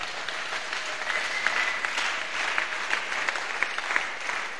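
A church congregation breaks into sustained, steady applause during a sermon, a dense wash of clapping from many hands filling the room without voices.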